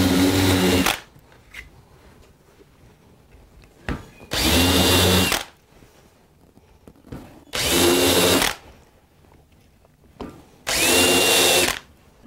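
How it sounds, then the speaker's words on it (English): A power drill fitted with a taper countersink bit bores countersinks for flathead screws in wood, running in four loud, separate bursts of about a second each with quiet pauses between them. "I'm going to have a special taper bit to make a countersink for the screw heads."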